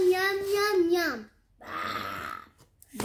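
A voice imitates a burp during a preschool game based on the old lady who swallowed a fly: a drawn-out voiced sound, a pause, then a rougher, noisier burp-like rasp.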